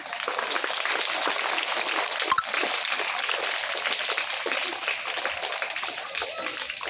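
Audience claps at a school welcome ceremony for a nursery children's quiz competition, a steady dense patter of many hands that continues throughout, with faint voices mixed underneath.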